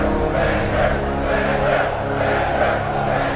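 An arena crowd in the film Gladiator roars in a continuous, swelling cheer, with rhythmic surges of massed voices throughout.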